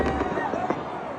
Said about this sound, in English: last night, Mike Prater, fireworks going off at Circa Resort and Casino